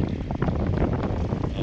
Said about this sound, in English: Obviously got a little windy too.